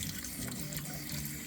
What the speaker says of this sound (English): So I'm just going to pour this in here.